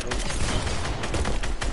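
Rapid video-game gunfire, a continuous loud stream of shots in quick rhythm with no pauses.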